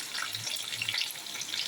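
Chopped onions frying in oil after dried chillies, bay leaf and cumin, a soft, steady sizzle, fairly quiet and close, with no talking over it.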